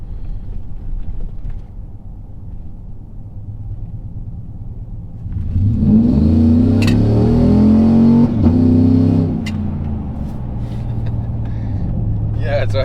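A 2018 Chevrolet Silverado's 5.3L V8 with aftermarket headers and true dual exhaust idles deeply, then revs up with a loud, rumbling exhaust roar that rises and settles back; a voice is faintly heard.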